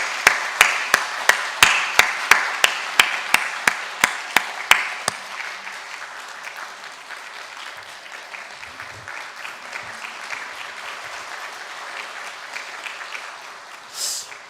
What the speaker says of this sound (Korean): 우리 인사할 때 여러분 박수로 환영해 주시기 바랍니다.